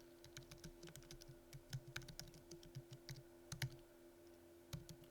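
A name being typed on a computer keyboard, a steady stream of light, crisp key clicks with a few heavier strokes, close and alone over a faint steady hum.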